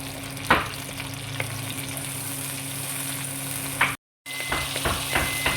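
Chicken, onions, tomatoes and green chillies frying together in a pan, a continuous close sizzle with occasional sharp clacks of a spoon against the pan, broken by a brief silent gap.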